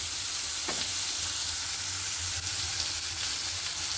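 Prawns fry in a pan with a constant, dense sizzle nearby, with a couple of brief scraping stirs of a spatula against the pan.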